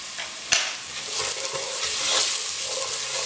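Red chili flakes, dried methi leaves and turmeric sizzle steadily in hot oil in a pan for vegetable bhujiya, with a sharp spoon knock near the start and continuous scraping as they are mixed.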